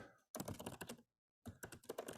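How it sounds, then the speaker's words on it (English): Fast typing on a computer keyboard during a live online peer therapy chat session, with two dense bursts of rapid key clatter separated by a brief pause, close and clear with no talking. "look at that, you can see her typing things in"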